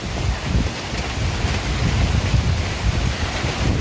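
Strong gusty wind roars against the microphone during a storm, a loud continuous buffeting rush that swells and eases, with a sea-like churn underneath and no speech.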